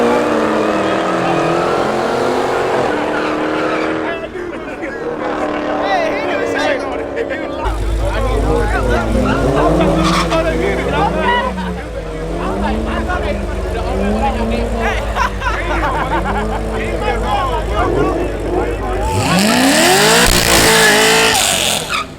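A Mark 5 car launches off the line in a drag race with the clutch dumped, its engine note climbing and falling through repeated loud gear-driven sweeps before a final hard rev near the end.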